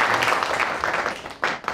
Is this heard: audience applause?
yes